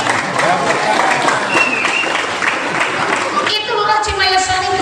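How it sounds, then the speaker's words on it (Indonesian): A congregation at a Sundanese Maulid Nabi sermon in an Islamic boarding school claps for the village head, a busy patter of applause mixed with voices, ending as talk takes over. "sok tepuk tangan untuk lurah"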